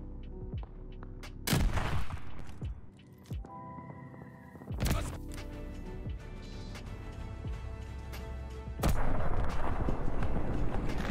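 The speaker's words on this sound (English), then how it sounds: "You then want to jump and shoot your launcher over." Launcher fire in the Call of Duty: Vanguard map Tuscan, with several sharp, loud blasts and booming impacts spread across the clip, sitting over steady game background noise.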